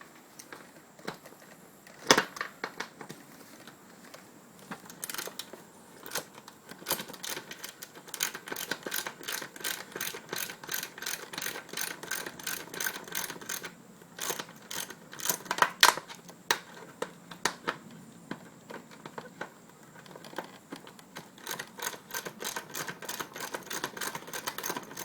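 A ratchet wrench clicks in rapid, uneven bursts while a bolt is backed out of the rear shock mount on a Suzuki GS500 during an R6 shock conversion. The clicking is close and steady across the whole stretch, with a few sharper knocks.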